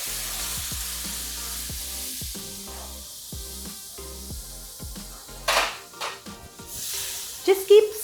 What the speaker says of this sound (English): Now I want you to add 5 tomatoes that are boiled and pureed.